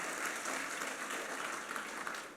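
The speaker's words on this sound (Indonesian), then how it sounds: "Beri tepuk tangan lagi buat Tuhan kita." A church congregation at a Sunday worship service in Batam applauds in a steady, dense wash of clapping, moderately loud and continuous throughout, with no voices standing out.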